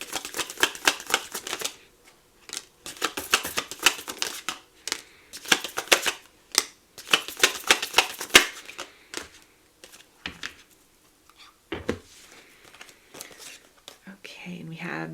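Oracle message cards for a love reading are shuffled by hand in quick, crisp riffling bursts and soft slaps, close and dry, with brief pauses between rounds and a faint rustle at the end.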